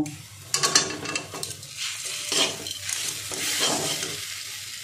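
Potato patty filling with spices and sugar is stirred in a pan on a gas stove, making soft close scraping and shuffling strokes over a light sizzle, continuous and moderately loud without speech.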